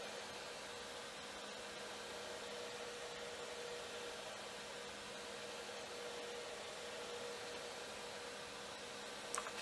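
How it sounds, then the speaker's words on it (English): A vacuum pump degassing epoxy resin for a corncob bowl runs with a steady, fairly quiet hiss and hum and a faint constant whine throughout, unchanging and unaccompanied by speech. "the idea here is to pull the vacuum and hopefully pull the air out of what's there"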